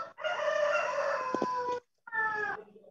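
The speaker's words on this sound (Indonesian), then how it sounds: "Oh, ada suara ayam di sana." A rooster crows loudly and close by in one long, drawn-out call, followed after a short pause by a second shorter crow, with no talking over it.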